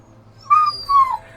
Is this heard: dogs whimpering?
yes